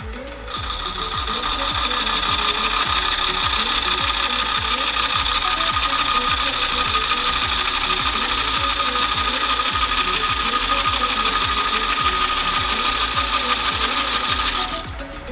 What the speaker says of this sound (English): Got the lathe going at about 385.